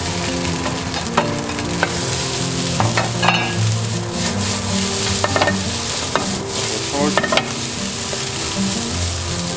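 Rice and a sauce mix stir-fried in a wok for quick Chinese fried rice, a steady close sizzle broken by repeated scraping and tossing strokes of the spatula, with no talking.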